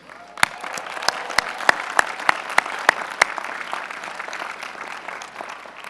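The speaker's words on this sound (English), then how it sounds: "You all deserve that applause for making it through the CMU gauntlet." An audience at the Carnegie Mellon University commencement applauds in a broad wash of clapping, with several sharp, close claps standing out early on before the applause thins slightly toward the end.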